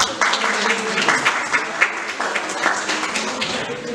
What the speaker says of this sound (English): A big hand of applause to all the faculty members.